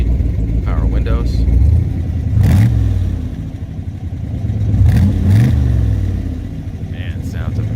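A 1966 Corvette L72 427 V8 roadster rumbling at idle, with two throaty revs that rise and fall, loud and close, while someone speaks over it.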